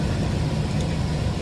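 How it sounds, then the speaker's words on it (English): A garage heater runs loud and steady, a dense broadband roar with low rumble, filling the space continuously with no break or voice. "It's loud here because I got the heat going"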